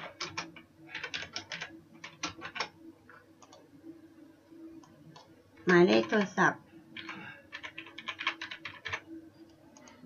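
Typing on a computer keyboard while entering personal and payment details into an online order form: bursts of quick, light key clicks close to the mic, with someone talking in Thai over and between them.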